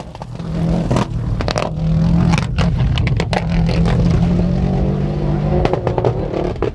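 Subaru rally car on a tarmac stage at the 1998 Donegal International Rally, its engine revving hard and loud with sharp popping bangs and crackles cutting through the steady roar.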